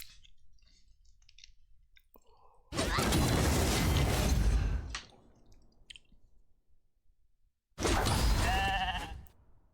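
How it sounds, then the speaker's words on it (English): Two loud bursts of sheep bleating in the video game RAID: Shadow Legends stand out from quiet clicks and soft background game sounds. "You can get bombarded by my army of sheep."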